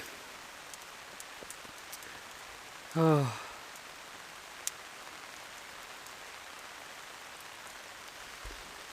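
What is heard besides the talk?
heavy rain pouring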